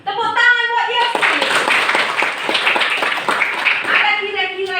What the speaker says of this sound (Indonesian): Tepuk tangan buat Yosi.